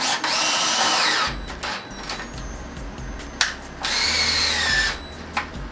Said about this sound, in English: this is what I'm gonna use to drill it into the concrete